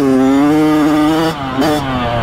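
A 2022 Kawasaki KX112 dirt bike engine revs hard and close, its buzzing two-stroke whine rising and dipping in pitch with a brief throttle blip near the end.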